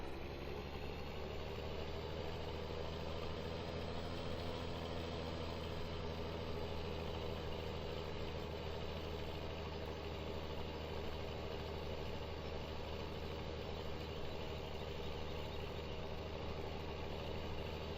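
A tractor engine idles in Farming Simulator 17 with a steady, even drone that holds at one level the whole time, with no voices over it.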